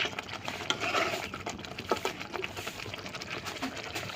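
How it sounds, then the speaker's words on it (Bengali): Tengra fish being stirred and sautéed in a pan, with steady scraping and clinking of a utensil against metal over a soft sizzle, close and continuous. "মাছটা অনেকক্ষণ পর্যন্ত কষানো হচ্ছে"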